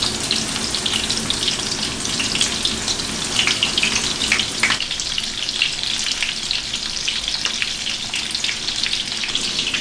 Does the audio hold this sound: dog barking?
no